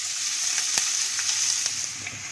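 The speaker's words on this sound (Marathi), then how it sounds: "तेल गरम झाल्यानंतर यामध्ये आता कांदा घालूया आणि गॅसची फ्लेम मंद ठेवून कांदा आपण गुलाबीच्या रंगावर भाजूया" Onion fries in hot oil over a low gas flame, a steady soft sizzle with faint crackles and a few small pops, close and alone without voices.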